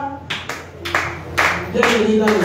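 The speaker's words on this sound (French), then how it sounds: "Les acclamations là." Clapping at a women's prayer service in a church: about five sharp, evenly spaced hand claps, close and fairly loud, with a sustained voice tone underneath.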